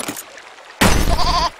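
Goat bleat from the video game There Is No Game, a single loud, wavering cry lasting under a second, following quieter game sounds.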